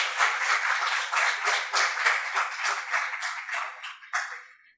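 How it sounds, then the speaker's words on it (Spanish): Audience applause welcoming a speaker to a panel at a children's and young adult literature event: a dense, steady round of clapping that holds evenly, then tapers with a few final claps near the end. "Démosle un caluroso aplauso de bienvenida a Manuel Peña Muñoz"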